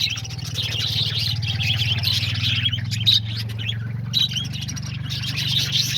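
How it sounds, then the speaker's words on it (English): Budgies chirp and chatter steadily in an aviary, a busy, continuous twittering flock close by, with a low background hum underneath. "There's all the little Budgies."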